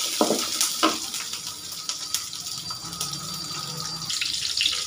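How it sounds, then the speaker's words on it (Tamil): Garlic cloves fry in a pan with a bright, steady sizzle and a few sharp taps from stirring. Everything sounds close and fills the whole stretch. "பூண்டு போட்டுடலாம். போட்டு நல்லா வந்து ஃப்ரை ஆகணும்."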